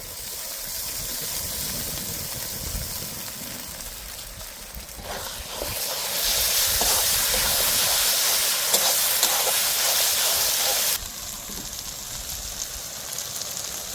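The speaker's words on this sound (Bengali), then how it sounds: "এবার আমরা দিয়ে দেবো টক দই" Sour yogurt hitting a hot spice paste with turmeric in a pan for village-style chicken curry, a loud broad sizzle that surges midway, then eases to a steadier hiss.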